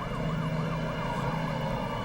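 An ambulance siren wails steadily in a continuous rising and falling tone, loud and sustained with no talk.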